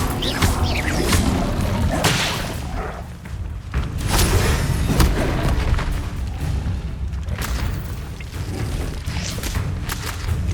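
An Incendio fire spell cast in Hogwarts Legacy, heard as repeated whooshing bursts and booms with whip-like cracks, loud and close, spread across several casts.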